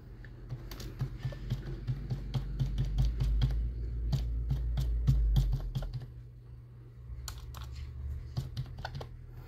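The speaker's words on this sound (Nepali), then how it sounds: "यसलाई मैले टाइप गर्छु" Typing on a computer keyboard while setting up PageMaker on a Windows 10 PC: rapid, irregular clicky keystrokes in bursts, close and clear, with a brief pause before a final flurry of taps.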